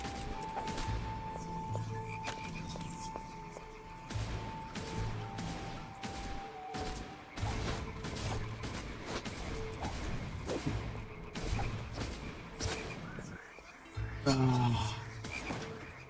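Repeated pistol shots from a single handgun in the action game The Incredible Adventures of Van Helsing: Final Cut, firing in a steady stream of sharp bursts over constant game music and effects.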